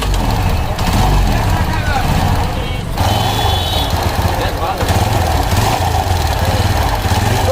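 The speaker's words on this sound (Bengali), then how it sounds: "তো এবার আমরা স্টার্ট দিয়ে দেখব সাউন্ডটা কেমন হয়।" A repaired motorcycle engine idles steadily after starting, its rough, continuous putter loud and close throughout, with faint workshop background.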